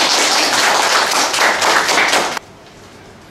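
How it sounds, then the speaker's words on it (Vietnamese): A short burst of applause from an audience at a gathering, dense clapping for about two seconds that then cuts off abruptly into quiet. "Vỗ tay."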